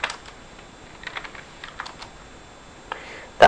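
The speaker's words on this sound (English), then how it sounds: "You might have caught me typing it before" Light clacking of keys on a computer keyboard during coding work, scattered quick taps in small bursts, close and fairly quiet with no talk.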